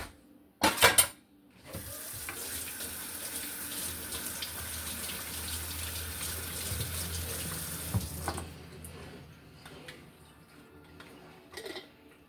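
Tap water runs steadily from a faucet into a kitchen prep-area sink during handwashing, a continuous hiss lasting several seconds after a brief clatter, with no talking.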